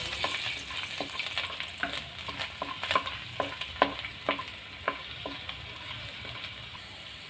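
Asafoetida and garlic sauté in hot oil for misal pav, giving a steady close sizzle with frequent sharp clicks and scrapes from a spoon stirring the pan, and no talking.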